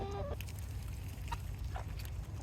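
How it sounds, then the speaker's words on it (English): Soft, scattered clucking from chickens, including a speckled hen, fairly faint, over a constant low background hum. "So one update is Larkspur right there, that speckled chicken."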